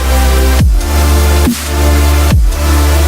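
Finished electronic dance music drop built in FL Studio from stacked melodic chords, loud and dense across the range, pumping in a steady rhythm with three sharp dips where the sound briefly ducks.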